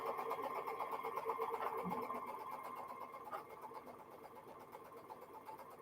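A sewing machine stitches diagonal seams on quilt blocks, giving a steady, fairly faint, fast whirring hum with a light mechanical rattle that runs continuously throughout.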